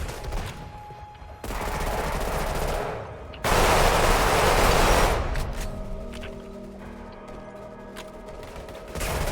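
Automatic fire from a fast-killing five-shot weapon in the Roblox game Weird Gun Game comes as sustained loud bursts that rise to a peak and then taper into quieter mechanical clicks.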